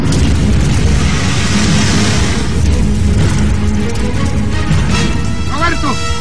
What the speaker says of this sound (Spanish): hizo explosión y se incendió.